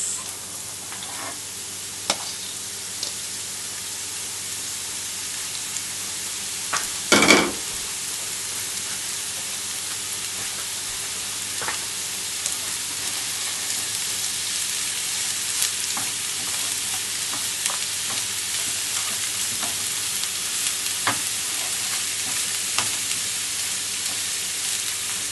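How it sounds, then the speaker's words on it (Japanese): Sugar beet and kombu stir-frying in oil, a steady, even sizzle and hiss that holds for a long stretch, with occasional soft clicks and one louder clatter of a utensil near the start. "これを油で炒めていきます。"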